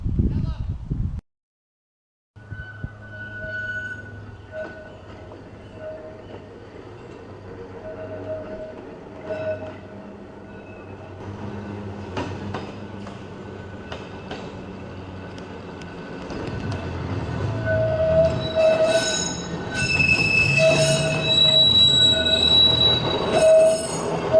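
A heritage tram at Heaton Park Tramway rolls along rails with rumbling wheels and sharp metallic squeals, growing louder toward the end, with faint voices underneath.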